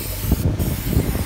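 A few quick hissing squirts from a spray bottle lay an even coat of a foaming product, each spray short and close, with no talking.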